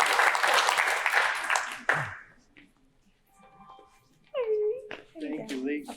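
An audience at a lakeside community meeting gives a round of applause, a burst of clapping for about two seconds that cuts off as voices begin speaking nearby.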